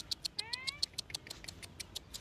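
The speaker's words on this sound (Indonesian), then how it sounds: "Kucing. Jadi Kucing." Cat at a town square, giving a short, faint high mew over a quiet background of rapid, evenly spaced light ticking or pattering sounds.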